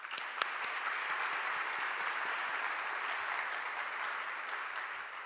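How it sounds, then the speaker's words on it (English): A seated audience at a Lake Oswego Reads author presentation gives a sustained, even round of applause for sponsors and volunteers; the dense clapping stays moderately loud with no talk over it. "Please join me in giving them one more huge round of applause."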